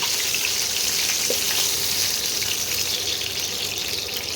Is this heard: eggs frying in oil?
yes